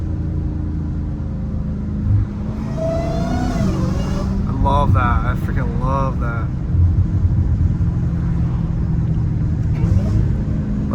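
A deep, throbbing straight-piped V8 exhaust rumble from an 850 hp Dodge Challenger Hellcat Redeye idles steadily throughout, rising briefly as the throttle is blipped, while a person talks excitedly over it.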